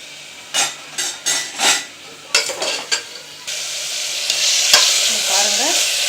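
Ginger garlic paste hits hot oil in a pan while a spoon scrapes and knocks against the metal in a few quick strokes, then a steady, loud sizzle of frying takes over, with occasional stirring clinks.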